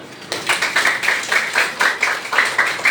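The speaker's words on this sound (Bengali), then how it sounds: "থ্যাংক ইউ, একটা হাততালি দাও।" A classroom of students claps hands in a steady, brisk rhythm of about a dozen sharp claps, close and loud, with no talking.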